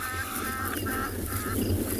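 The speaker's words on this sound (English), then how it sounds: "Yes, Egyptian geese, I hear you." Several loud, nasal Egyptian goose honks come in quick repeated bursts, close by, with no one talking, on a morning safari in South Africa.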